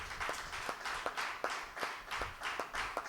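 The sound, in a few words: congregation clapping during Holy Mass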